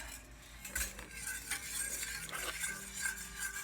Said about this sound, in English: You want to give it a little stir before we add the yeast?